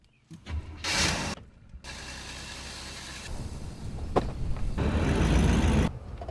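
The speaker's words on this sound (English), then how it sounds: "took us for a ride around Tahoka in her beloved baby blue 1980 Chevy Malibu" A baby blue 1980 Chevy Malibu driving around town, engine rumble and road noise with bursts of wind and rattling, a door or window sound midway, heard from inside the car.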